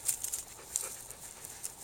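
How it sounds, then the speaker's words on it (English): Working dogs of a rare, genetically diverse breed pant rapidly at close range outdoors during a training session, with quick breathy puffs coming in uneven bursts. "These are some seriously good dogs."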